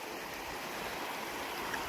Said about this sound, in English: Creek crossing.